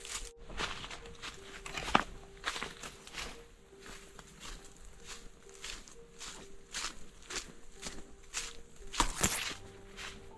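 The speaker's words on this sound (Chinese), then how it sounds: "我只听到我的脚步声跟风声。" Footsteps crunch steadily along a remote mountain trail in the Guizhou wilderness, a regular walking rhythm close by, with faint wind noise underneath and no talking.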